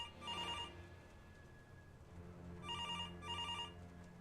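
Inside a spooky video game, a telephone bell rings in two short bursts, a double ring near the start and a pair of rings near the end, with a low background drone in between.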